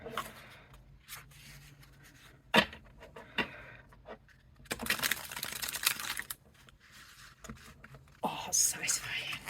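A deck of tarot cards being shuffled at close range, with bursts of crisp riffling and snapping between quieter handling sounds, while a voice speaks softly in between.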